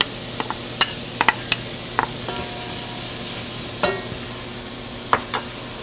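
Chopped onions hiss and sizzle in a hot pan of melted fat while being stirred, for a braised beef cheek dish. A steady close frying hiss runs throughout, with scattered sharp spoon-and-pan clicks and scrapes and no talking.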